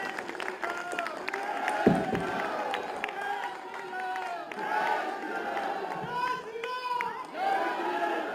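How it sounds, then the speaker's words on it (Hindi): Crowd at a Kisan Mela farmers' fair applauds to welcome chief minister Yogi Adityanath, with sustained clapping mixed with cheering and a loud voice talking over it throughout. "तालियां बजाकर सबका स्वागत करें।"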